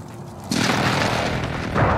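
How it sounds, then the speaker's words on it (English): A precision airstrike in Call of Duty: Warzone lands as a sudden loud boom that swells into a sustained rumbling roar, with a second blast hitting shortly after. "Be advised, friendly precision airstrike inbound."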